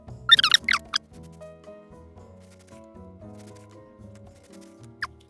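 Foam for a puppet head is cut, giving a few close, sharp squeaky rasps at the start and one more near the end, with quieter tonal rubbing sounds in between.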